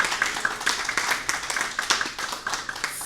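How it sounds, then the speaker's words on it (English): An audience claps at the launch of a health hygiene lounge supporting families and ending period poverty. The claps come as a quick, fairly even patter of sharp hand strikes at moderate volume, with no voices over them. "give her another round of applause"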